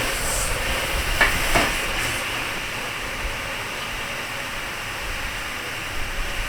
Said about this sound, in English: Yeah, lots of steam, lots of heat.